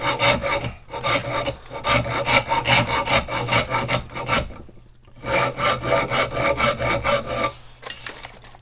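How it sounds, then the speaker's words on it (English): A coarse wood rasp shapes a wooden handle for an old Plumb axe head, giving loud, close, rhythmic rasping strokes in bursts with brief pauses between them. "Got a little more aggressive rasp there."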